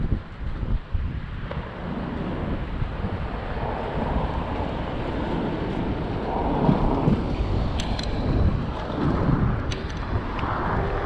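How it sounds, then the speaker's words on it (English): Strong wind buffets the microphone on a city street in Polanco, Mexico City, a continuous loud rumbling roar with gusts swelling and easing throughout, and no talk. "Here it gets really windy,"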